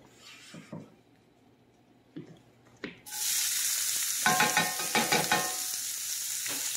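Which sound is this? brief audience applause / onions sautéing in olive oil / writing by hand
onions sautéing in olive oil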